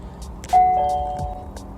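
A doorbell is rung once, giving a clear electronic chime that rings out and slowly decays, heard alone in a quiet room.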